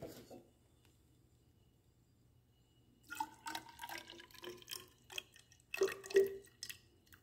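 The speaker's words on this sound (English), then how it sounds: "Now we will pour around 100 ml of the well mixed sludge sample here." Activated sludge sample, about 100 ml of well-mixed wastewater sludge, poured into a lab filter; a quiet lull gives way to close liquid splashing and dripping in irregular bursts, louder near the end.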